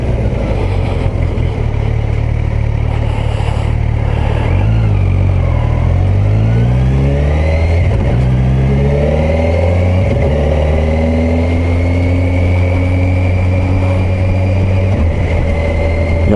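A 2021 Kawasaki Versys 1000 SE Grand Tourer four-cylinder motorcycle engine revs and climbs steadily through rising pitch, a loud, close, continuous drone with gear-change dips and no voices.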